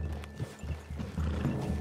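Horses in Red Dead Redemption 2 clop and neigh close by in a quick, busy run of hoof thuds and snorts with no talk.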